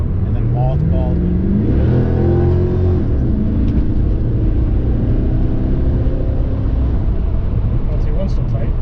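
1992 Chevrolet Corvette with a 300 horsepower LT1 350 V8 accelerating, the engine note climbing and dropping through shifts as the transmission downshifts, a loud steady rumble from inside the cabin with voices talking over it.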